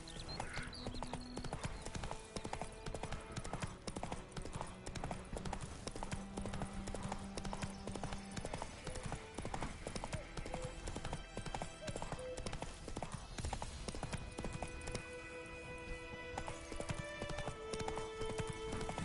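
Horse hooves clip-clop in a steady trotting rhythm along a road in The Witcher 3: Wild Hunt, quiet and continuous under soft game music and ambience, with an occasional faint snort.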